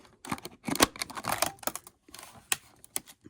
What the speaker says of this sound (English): this plastic is a lot sturdier than what I'm used to, as it should not be this hard to cut it